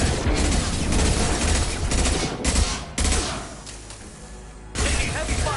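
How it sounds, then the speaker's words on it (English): Heavy gunfire in Mass Effect Legendary Edition, a loud barrage of overlapping shots and booms in bursts with short drops in between, mixed with game combat noise. "Taking heavy fire!"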